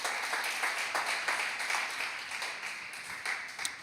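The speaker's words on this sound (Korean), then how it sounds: "우리 주님께 영광의 박수 올려드리겠습니다" A church congregation at a Friday worship service gives sustained, even applause, a soft, dense wash of many hands from across the hall with no talking.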